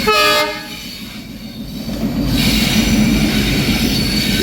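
A train blasts its horn near the start, then rolls through Poradah Railway Junction in Bangladesh with a loud, steady rumble of wheels and squealing rails.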